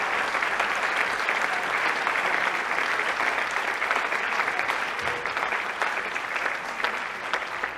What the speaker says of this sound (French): Et donc je vous demande également de les applaudir et de les remercier.